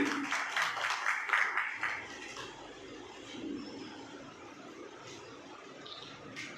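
At a school ceremony honoring tenth-grade toppers, the audience claps for the top student, Neha, a short burst of crowd clapping in the opening seconds that fades into soft room noise.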